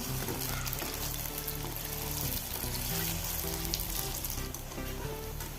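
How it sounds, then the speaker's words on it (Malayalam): Soybean chunks deep-frying in hot oil, a dense steady sizzle and crackle running continuously at even loudness with no voices. "സോയാബീൻ റെഡി ആയിട്ടുണ്ട് കോരി എടുക്കാം ഇത്രയും പൊരിച്ചെടുത്താൽ മതി"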